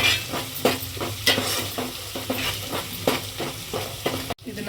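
Mince masala is stirred and sautéed in a frying pan, a steady sizzle broken by regular scraping strokes of the spoon, close and continuous with no talking.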